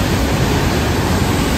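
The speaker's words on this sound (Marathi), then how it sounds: "समोर जो बघताय तुम्ही तो आहे रंधा धबधबा." Randha waterfall at Bhandardara pours steadily with a dense, constant roar of rushing water, loud and unbroken, with no voices.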